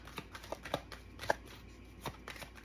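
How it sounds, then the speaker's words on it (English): An oracle card deck is shuffled by hand, a series of soft, quick riffling clicks and flicks at an uneven rhythm, close and quiet with no talking. "For some reason I grabbed the Oracle deck. I didn't mean to, but I'm shuffling it here"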